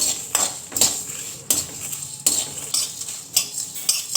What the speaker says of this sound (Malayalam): എണ്ണ ഇല്ലാതെ തന്നെ വെറുതെ വറുത്തെടുത്താൽ മതി.